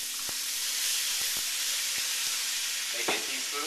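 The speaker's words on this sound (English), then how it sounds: "Now I'm going to hit this with a little bit of cooking wine." Cooking wine splashed into a hot pan of Szechuan chicken hisses into a steady, close sizzle, with a few soft clicks of stirring and a brief flare near the end.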